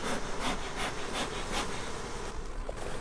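Dense, steady buzzing of many honeybees around a sick backyard hive with no queen and small hive beetles, loud and close throughout with slight swells.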